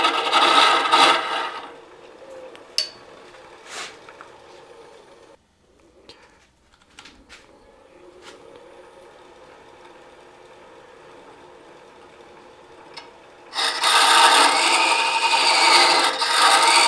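A Laurent Niclot mini hollower scrapes wood from inside a turned ornament on a lathe, with loud rasping cuts at the start and end around a long quieter stretch.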